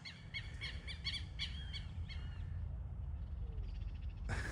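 Birds call repeatedly from a mown field, a rhythmic series of sharp, squawking cries through the first half, then scattered fainter calls over a steady low outdoor rumble, ending in a brief loud burst.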